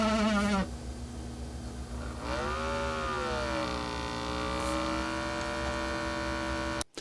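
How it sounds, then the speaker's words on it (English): A KUU LeBook Pro laptop fan under load gives a constant, harsh, high-pitched screech whose pitch bends and wobbles, sitting above a steady electrical hum throughout. "the fan makes a horrendous screeching sound"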